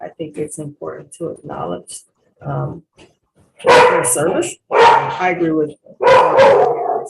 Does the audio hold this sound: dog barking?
yes